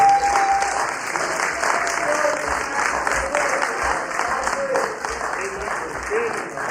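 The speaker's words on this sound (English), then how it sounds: "we can now give all of our candidates a big hand of applause" Sustained applause for board candidates at a meeting, a dense steady clapping from a sizeable crowd lasting the whole stretch, with a faint tone and murmur underneath.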